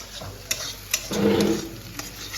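Bhujia for chowmein being stirred and fried in a pan, with scraping stirs and a soft sizzle, close and moderately loud, a few distinct strokes over a steady frying hiss.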